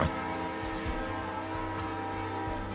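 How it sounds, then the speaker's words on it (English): Train horn sound effect during a video game session, a loud sustained blaring chord with rumbling rail noise beneath, continuous throughout with no talking. "Train!"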